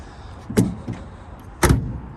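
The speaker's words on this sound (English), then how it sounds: "These doors close a little hard because this aftermarket door panels are hitting here." Doors on a 1969 Chevrolet Camaro convertible with aftermarket door panels close a little hard, giving two solid thuds about a second apart, close by and fairly loud against a faint background hiss.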